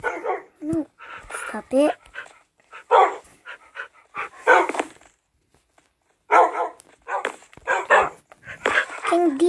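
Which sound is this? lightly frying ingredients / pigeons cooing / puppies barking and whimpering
puppies barking and whimpering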